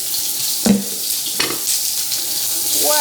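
Onion and vegetables sizzle in high-temperature oil in a Nuwave induction wok, a steady hissing fry with a few sharp stirring clatters, close and fairly loud, with a brief voice near the end.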